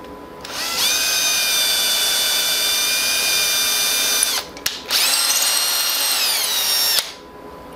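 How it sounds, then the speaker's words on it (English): A power drill tapping holes in acrylic whines loudly and close, with a long run of about three and a half seconds, a brief stop, then a second shorter run that winds down. "I usually use the drill for aluminum as well"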